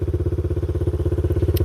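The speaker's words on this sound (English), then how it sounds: "I mean, it's too hard for me to even get up them little hills with these pit bikes." A small pit bike engine revs steadily with a fast, even pulsing drone while riding a dirt trail, close and loud with no talk.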